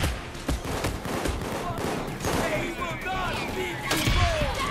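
Gunfire in the heist shooter Payday 2, including sniper shots, forms a dense, continuous clatter of overlapping shots and thuds under people talking.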